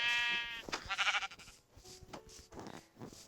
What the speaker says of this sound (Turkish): Koyun gördüm.